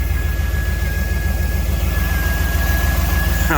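A Jeep Wrangler YJ Unlimited engine runs at a steady idle, a low, even rumble that holds constant throughout with a faint thin whine riding over it and no talking.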